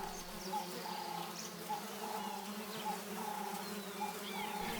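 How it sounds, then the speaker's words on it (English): Flies and other insects swarm over the last scraps of a dead elephant's carcass, a continuous faint buzzing and droning with occasional distinct passes over a steady outdoor background. "an insect army has descended to take care of the very last scraps"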